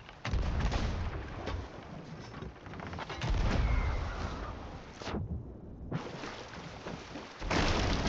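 Ship cannons firing broadsides in a pirate naval battle video game, booming blasts in several heavy bursts separated by short gaps, loud and close, with no talking.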